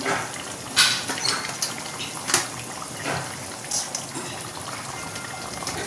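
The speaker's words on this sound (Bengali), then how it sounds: "ঝোলটা খুব ভালোভাবে ফুটে গেছে, এবার মাছগুলো একে একে দিয়ে দেবো" Fish pieces go one at a time into boiling curry gravy in a large kadai, giving a few soft, close splashes and gushes over a steady bubbling simmer.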